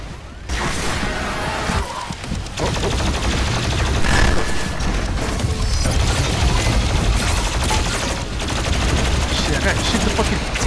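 Rapid bursts of gunfire and explosions from the first-person shooter Doom Eternal, loud and nearly continuous, with a player talking over the action.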